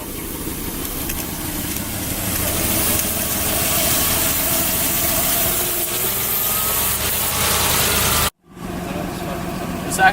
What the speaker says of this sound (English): Didn't sound like a good startup compared to last time.